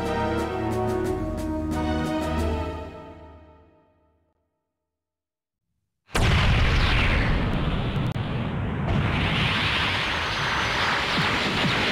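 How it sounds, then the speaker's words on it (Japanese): A multi-warhead cannon in an anime space battleship battle fires and explodes: a tonal charging blast fades to silence, then a sudden loud roaring explosion bursts in and rumbles on. "多弾頭砲発射"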